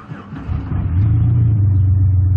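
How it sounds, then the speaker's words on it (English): A car engine cranks and catches during a battery cranking test, settling into a steady, loud low idle rumble after a brief churning start, with no talk. "So let's walk around and just start the engine."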